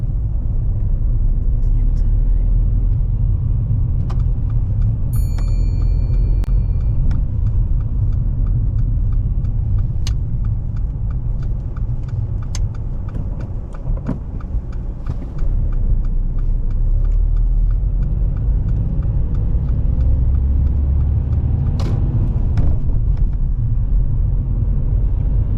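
Car driving along a road during a mock driving test, heard from inside the cabin as a steady low engine and road rumble with occasional clicks. People speak over it.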